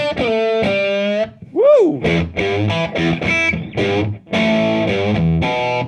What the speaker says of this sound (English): I'm gonna just crank up the drive.